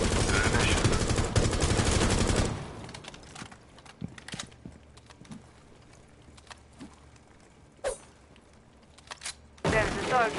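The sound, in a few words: gunfire in the video game Rainbow Six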